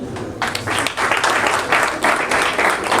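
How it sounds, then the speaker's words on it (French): A short burst of applause from a small audience, steady hand clapping lasting a few seconds with no voices on top. "je crois que je suis obligé d'applaudir"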